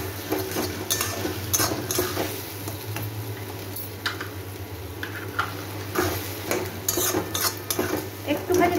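A spoon stirs spices with salt, turmeric and sugar in a frying pan, making repeated clinks and scrapes over a soft sizzle and a steady low hum.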